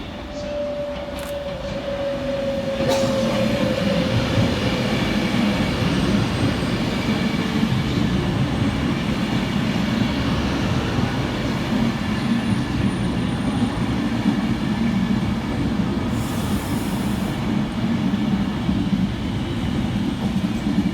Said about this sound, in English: Arriving next into the station will be 390049, working the 1624 Avanti West Coast service from Manchester Piccadilly through to London Euston